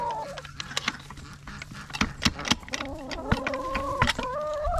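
Backyard chickens cluck and chatter close by as they are let out of their coop, with overlapping rising calls and scattered sharp clucks growing busier toward the end.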